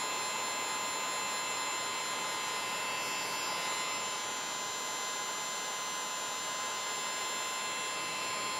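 A heat gun blows a steady, loud whooshing hum with a faint high whine while shrinking heat shrink tubing over a soldered wire joint, unbroken and close throughout.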